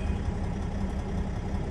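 A semi truck's diesel engine idles steadily and close by, a continuous low rumble with no breaks or voices.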